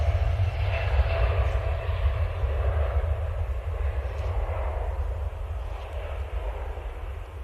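A six-year-old Boeing Dreamliner arrives on runway 23L at Manchester Airport, its engines making a steady, distant roar with a deep rumble throughout.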